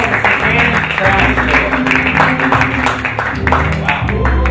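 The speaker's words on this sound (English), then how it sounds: "Please, big round of applause for Damien Jenkins." A talk-show studio audience applauds for an arriving guest, a loud, dense patter of clapping, sustained and close, with a voice speaking over it and some cheering mixed in.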